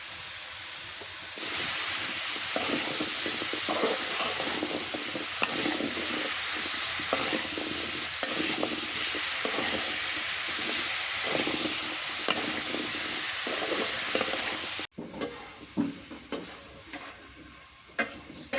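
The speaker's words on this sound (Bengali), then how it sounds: "মিষ্টি কুমড়ে কষানো হয়ে গেছে" Sweet pumpkin with garlic paste, salt and turmeric stir-fried in a pan, giving a loud, continuous sizzle with repeated scraping stirs for a long stretch, then breaking into quieter, intermittent spattering and clatter.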